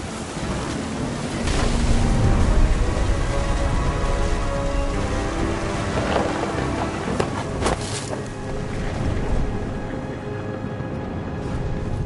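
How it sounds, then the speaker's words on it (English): Heavy rain and a storm in the video game What Remains of Edith Finch, steady hissing downpour with surf-like wash and a few sharp cracks, loud and continuous without speech. "The thunder sounded much too close and full of angry power."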